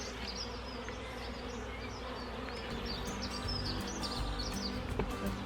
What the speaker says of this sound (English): I won't shake the bees off that one, seeing as Queenie's there